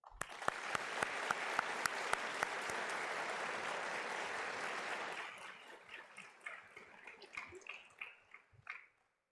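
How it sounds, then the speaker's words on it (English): Applause from an audience at an honors college convocation ceremony, a dense steady clapping for about five seconds that thins into scattered, fading claps. "please join me in a round of applause for them"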